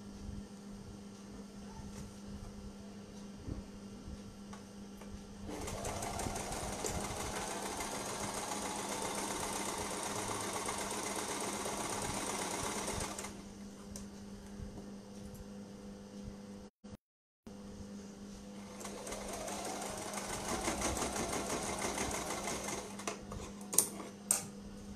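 A sewing machine stitching a baby frock, a steady close mechanical whir running in two long stretches separated by a quiet pause and a brief dropout, fairly quiet overall.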